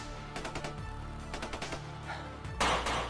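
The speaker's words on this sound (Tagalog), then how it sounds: "Ano, putukan sila Kuya Bads ko, no?" Gunfire outdoors during a survival skirmish, several sharp cracks and short bursts spread across the moment, some rapid like automatic fire, fairly close with a loud final blast, no talking.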